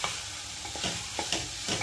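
Whole spices for a tempering sizzle and crackle in hot oil while being stirred, with repeated scraping strokes over a steady fry, close and with no talk. The tempering is for a Telugu-style curry of raw banana and drumsticks.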